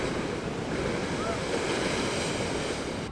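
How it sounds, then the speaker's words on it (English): Huge sea waves crash and surge at Bridlington on the Yorkshire coast, a loud continuous roar of surf mixed with buffeting wind noise on the microphone. "There's some absolutely monster waves out there."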